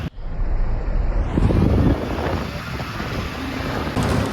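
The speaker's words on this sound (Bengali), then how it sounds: "সুন্দর হাওয়া দিচ্ছে" An early-morning breeze on a bus ride through Kolkata streets, heard as loud, steady wind buffeting the microphone, with a low rumble beneath.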